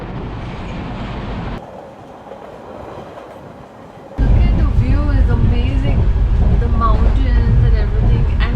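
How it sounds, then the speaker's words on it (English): Inside a second AC coach on a 12-hour overnight train to Gokarna, a deep rolling rumble with rhythmic wheel clatter swells louder partway through, while voices talk over it. "We are right now in the train"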